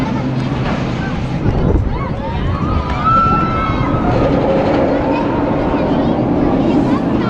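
Dragon Khan roller coaster running at Port Aventura theme park, a rumbling roar of wheels on track with squealing tones sweeping through, heard close and continuous while someone talks over it.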